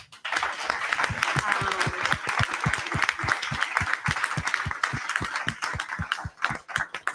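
Steady applause from an audience thanking a panel at an event, dense continuous clapping at full volume throughout with no pauses.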